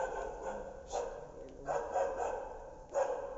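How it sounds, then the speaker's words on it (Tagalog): A dog barks a few times from some distance at night outdoors near an abandoned morgue at Clark, Pampanga, the short barks spaced irregularly over a low background hiss. "May aso, mga idol."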